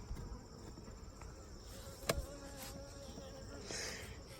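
Honey bees buzz quietly at a hive entrance, a faint steady drone with brief louder passes of single bees near the listener.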